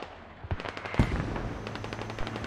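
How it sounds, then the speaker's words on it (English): Mortar and gunfire in the tactical shooter Squad on the Gorodok map, with a cluster of sharp bursts and a heavy thump near the middle, then scattered reports continuing through a noisy battlefield. "Oh, perfect mortar!"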